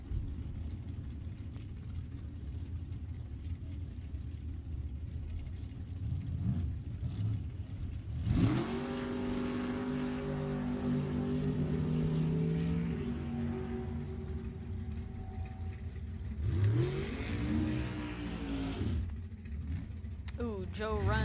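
A 1968 Camaro and a purple 1967 Barracuda launch side by side in a B gas drag race at Sacramento Raceway, their engines roaring and climbing in pitch as they run the strip, with announcer commentary over the noise.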